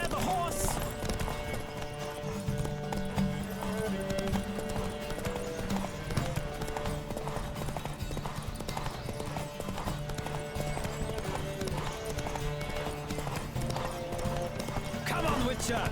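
Horse hooves clip-clopping at a steady gallop in The Witcher 3, with a horse whinnying at times, under in-game music and character dialogue throughout.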